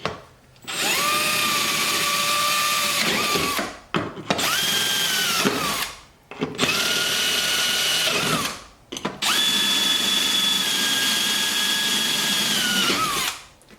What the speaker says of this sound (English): we can go ahead and we can drill all our other holes